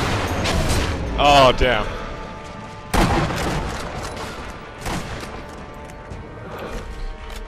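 Gunfire and explosions in the co-op video game Sniper Elite V2, with loud booming shots and a crash. One player speaks briefly.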